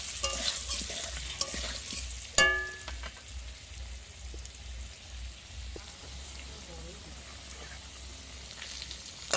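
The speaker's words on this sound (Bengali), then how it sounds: "প্রথমে একটু হলুদ দিয়ে ভালো করে আলুটা ভেজে নেব, আর একটু লবণও দিয়ে দিলাম।" Potatoes sizzle in hot oil with turmeric and salt, with regular, close stirring scrapes and a sharp metallic clank early on, then a quieter steady fry.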